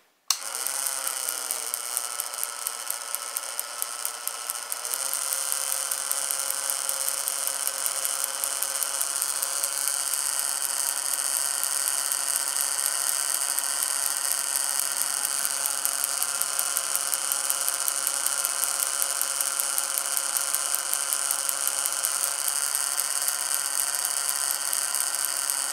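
A Van de Graaff generator's motor runs in a steady, continuous high whir throughout, loud and unchanging, with no voices.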